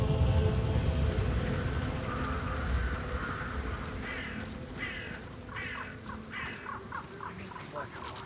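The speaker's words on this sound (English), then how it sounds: "I'll never get rid of those stupid birds." Crows in the video game Hitman 3 caw repeatedly in a quick series of harsh calls over a low, rumbling ambient bed, after a quieter opening stretch with murmuring in the background.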